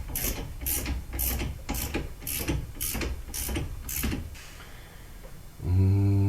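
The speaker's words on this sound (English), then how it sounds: "Go ahead and tighten those two up." A ratchet wrench clicks in eight even strokes while tightening brake bolts on a Subaru rear brake assembly, close and crisp, followed by a short mechanical whir at the end.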